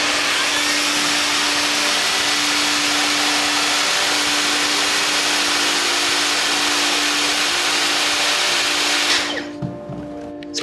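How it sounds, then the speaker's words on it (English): A Dyson vacuum cleaner with just over 200 air watts of suction runs loud and steady with a constant whine, then cuts out near the end, leaving a quieter room. "So this is a vacuum with just over 200 air watts."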